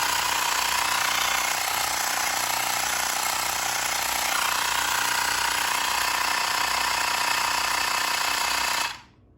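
A Xiaomi portable air compressor inflates at around 35 PSI with a loud, steady, buzzing motor drone that runs unbroken, then stops abruptly near the end.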